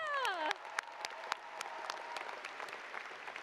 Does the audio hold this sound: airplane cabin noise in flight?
no